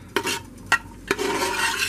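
Onions being stirred in oil in a big kettle for homemade chili: three sharp scrapes of a utensil against the pot over a continuous close sizzle of frying.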